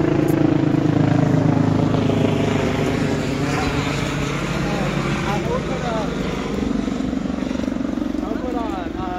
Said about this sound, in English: Sorry about the sound of a helicopter in the background.